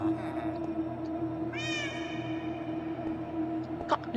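A cat meows once in Minecraft, a rising then falling wail, over a steady droning background hum with faint clicks.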